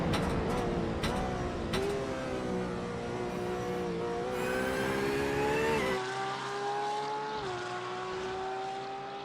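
A GT3 race car, the number 77 Ferrari, laps Mid-Ohio in a racing game: a steady high engine whine rises and falls through gear changes, with downshift blips and a clean upshift partway through, constant and close.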